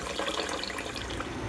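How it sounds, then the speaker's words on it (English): Running water from a tap splashes steadily over dyed wool fiber being rinsed, a brief continuous rush close by with no voices. "I'm going to rinse this until I can't get any more dye to come out of it"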